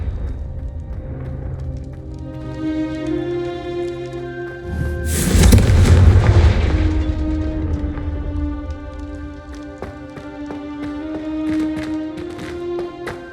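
The Confringo fire spell bursts in Hogwarts Legacy, a sudden loud blast that booms and then fades over several seconds, set against an ongoing orchestral score.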